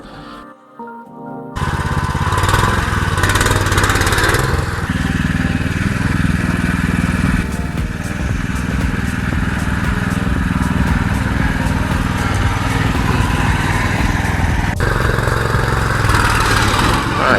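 A homemade tractor engine runs steadily and loudly close by, a continuous rough mechanical drone that keeps going from start to finish after a brief quiet opening.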